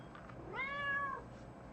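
A house cat gives a single clear meow lasting just over half a second, fairly soft and close, against a quiet room background.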